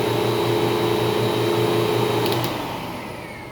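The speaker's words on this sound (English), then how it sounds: "you always have to have both vacuum motors running" Twin vacuum motors and a pump on an Optimum OP-110 portable carpet extractor run together, giving a loud steady whine with a constant hum that drops off slightly near the end.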